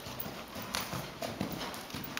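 Hooves of a ridden horse thud in a steady rhythmic clip-clop on an arena surface, faint and somewhat distant, with no clear speech over it.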